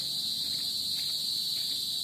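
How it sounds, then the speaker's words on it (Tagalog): Crickets chirp in a dense, continuous high trill on an evening walk, steady and fairly faint, with no other sound competing. "Ayan na, may mga kuliglig na."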